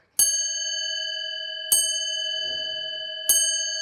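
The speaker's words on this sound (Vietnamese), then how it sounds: "khi đó thì đến giờ tròn, nó điểm chuông nó đánh chiang chiang" A pendulum wall clock with two weights strikes the hour, sounding three clear bell chimes about 1.5 seconds apart. Each strike rings with a bright metallic tone that sustains and overlaps the next. A faint rustle passes under the second chime.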